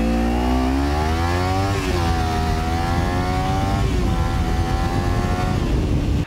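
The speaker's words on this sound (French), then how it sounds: "Avec mon nouveau pot d'échappement, vous allez voir, c'est plus la même. Parce que ça fait maintenant ce bruit-là." A Kawasaki Ninja 300 motorcycle fitted with a new exhaust, idling loud and close, then revving up and dropping back twice in steady swells with no talk over it.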